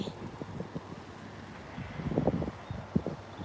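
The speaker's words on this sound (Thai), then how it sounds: "ลมแรงมากเลยค่ะ" Strong wind buffets the microphone outdoors in Finland, with uneven gusty rumbling and rustling that swell louder toward the middle and stay close and rough throughout, no voices.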